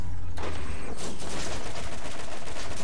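Gunfire from a deployed turret in Borderlands rattles in a fast, loud, continuous burst that begins after a brief quieter moment and holds steady to the end.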